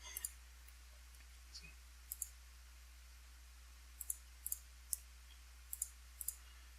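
A computer mouse gives sharp, quiet clicks, scattered singly and in quick pairs over a faint steady hum, in a quiet room with no one talking.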